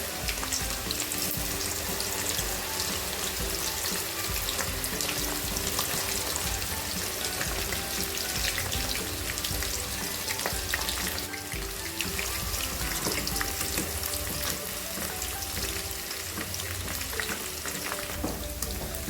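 Okra frying in hot oil for a crispy vendakkai fry, a continuous loud bubbling sizzle with scattered pops and light stirring, steady from start to finish.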